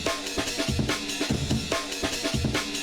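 Dry, unprocessed drum break loop, brisk repeating kick, snare and cymbal hits in a tight rhythm, loud and alone.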